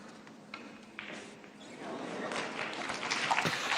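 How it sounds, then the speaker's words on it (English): Applause from a lively snooker crowd at a World Open match, a soft wash of clapping rising in the second half and building toward the end, heard at a moderate distance. "You can hear the applause."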